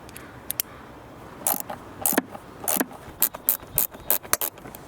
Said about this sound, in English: We'll need to use Torx 25 bit to unscrew them.